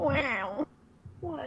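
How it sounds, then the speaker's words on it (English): Pet cat giving two drawn-out meows, the first long and loud, the second starting after a short pause, heard up close with a person speaking briefly alongside. "that's my cat."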